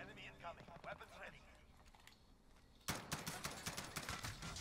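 An M4A1 rifle fires in the Modern Warfare video game, a quick volley of sharp, closely spaced shots that cuts in partway through, with someone talking over the earlier part.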